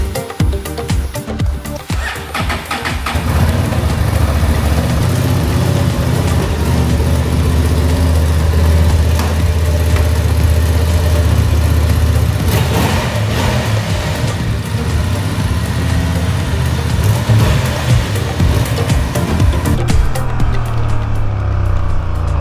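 A 2024 Honda Transalp 750 motorcycle engine runs steadily and loud at close range, a continuous rumbling drone with slight shifts in pitch that starts after a brief quieter moment.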